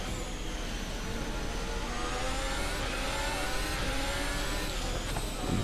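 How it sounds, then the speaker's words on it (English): An F1 car engine in a racing video game revs hard and holds a high, whining pitch that climbs and shifts continuously, steady and loud throughout with no talking. "You want to rev out your engine like mad."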